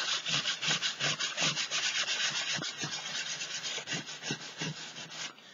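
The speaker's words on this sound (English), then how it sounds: "I'm going to use some sandpaper. I'm just going to sand some of that down" Sandpaper rubbed by hand over a paper flyer in a mixed-media art project, a steady rhythmic scratching of repeated back-and-forth strokes, close and fairly loud with no talking.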